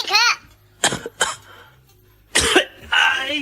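A father, sick with a persistent cough, coughs in several harsh, close bursts separated by short pauses, with a throat-clearing quality.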